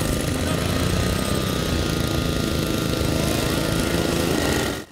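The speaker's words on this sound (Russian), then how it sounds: "6 смелых покоряют трассу Кубка Архангельского речного порта по зимнему картингу." Go-kart engines race on a winter karting track at a river-port cup, a loud continuous buzzing drone of several small engines that holds steady, then cuts off abruptly near the end.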